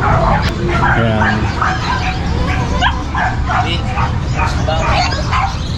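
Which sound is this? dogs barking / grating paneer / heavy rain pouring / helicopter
dogs barking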